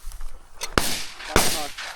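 Two sharp shotgun blasts ring out during a quail hunt on the opening of the hunting season, each a loud abrupt crack, with voices talking faintly around them outdoors.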